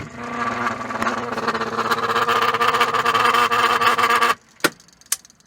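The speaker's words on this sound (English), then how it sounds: "Okay, the motor is spinning." A Whirlpool Estate washing machine motor spins with a steady mechanical hum and whir close by for about four seconds, then cuts off abruptly, followed by a couple of sharp clicks.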